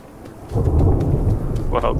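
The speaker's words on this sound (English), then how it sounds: "A storm is approaching." Rolling thunder in the Survive the Wilds video game as a storm approaches, a deep rumble swelling over steady rain and lingering loud and close, with no talking.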